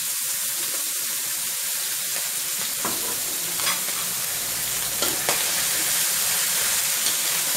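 Soybean paste stir-fried in a hot pan, a loud, dense, continuous hiss of sizzling oil with a few scraping strokes of the spatula, close up, no speech.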